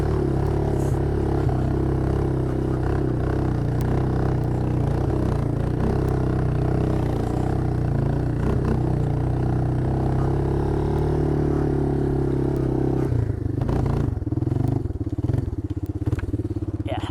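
Two-wheel drive quad ATV engine labouring steadily as it crawls up a slick, muddy slope in the woods, a loud continuous drone with clatter and thumps, easing toward the end.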